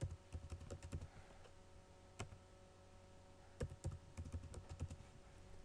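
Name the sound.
typing a password on a computer keyboard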